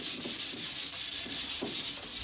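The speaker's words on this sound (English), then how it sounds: "I'm going to go over it with a really fine sandpaper. I have a 320 sandpaper here." Fine 320-grit sandpaper rubs back and forth across a wood surface in quick, even strokes, giving a close, steady, rhythmic hiss with no talking.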